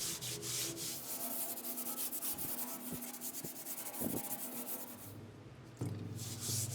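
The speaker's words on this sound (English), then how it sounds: "It says to use scouring pad and the mineral spirits on the whole thing." Steady abrasive scouring of a metal Case 1840 skid steer frame with a scouring pad and mineral spirits, continuous close rubbing strokes with a few brief knocks, no talk.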